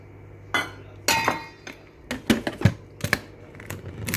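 An egg is added to the bowl of a Compact Cook Pro multicooker while making soft cookies, giving a few sharp clinks and taps against the bowl, close and separate, in a quiet kitchen.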